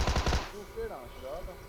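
Automatic gunfire in a video game, a quick rapid burst of shots lasting under half a second, loud and close, followed by a brief game tone.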